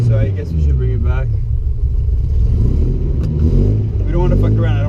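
The engine of a 1974 Datsun 260Z runs with a steady, close, loud rumble, heard from inside the car, while people talk over it.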